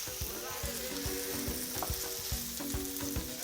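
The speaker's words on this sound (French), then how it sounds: "on va laisser revenir encore quelques minutes jusqu'à ce que les oignons soient fondants et dorés" Onions fry in a pan for rougail saucisse, a dense steady sizzle with soft rhythmic thumps of stirring beneath it, close and continuous.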